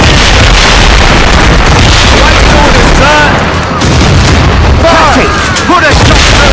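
Cannon fire in a naval fleet battle in Assassin's Creed Rogue, loud deep booms rolling over a constant roar of sea and battle, with shouting voices in the mix.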